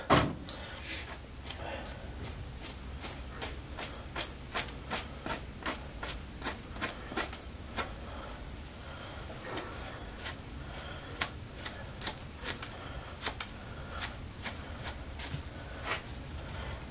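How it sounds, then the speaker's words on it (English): A knife fillets fat off a deer hind quarter, making a series of close, crisp slicing and scraping strokes in an uneven rhythm over a low background hum. "I'm going to cut that fat off. Fillet that fat off of there."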